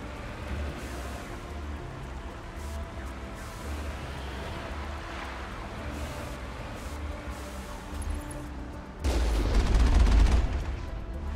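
Gunfire in the video game Mass Effect, rapid muffled bursts over a low rumbling backdrop, swelling into a louder booming burst near the end.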